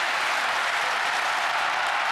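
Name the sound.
stadium crowd clapping in rhythm for a high jumper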